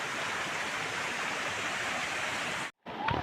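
Steady rushing water from a river in rural Konkan runs alone and unbroken, then cuts out briefly before resuming near the end.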